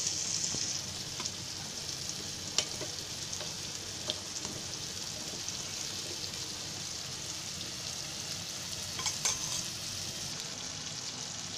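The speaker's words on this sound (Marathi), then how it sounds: "अशी सर्व मच्छी आहे ना अशी पीठ लावून तेलामध्ये सोडून द्यायची." Flour-coated shark fish pieces frying in a pan of hot oil give a steady, close sizzle with occasional crackles and pops, and no one speaks.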